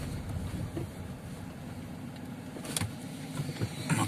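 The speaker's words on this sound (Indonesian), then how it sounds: "Nah tuh banyak mobil ngantri." A queue of many cars idles at a Roro ferry port, a low, steady engine rumble with faint distant mechanical clunks and no voices.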